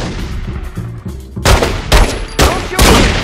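Gunshots ring out in The Godfather 2 video game: four loud, booming shots in slow succession, close and dominant, following a stretch of low rumbling background noise.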